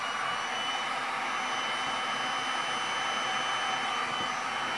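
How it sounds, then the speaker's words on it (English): A blow dryer blows over a black sand beach resin pour, a steady loud rushing whoosh that holds unbroken from start to end. "If not, I might have to use the blow dryer."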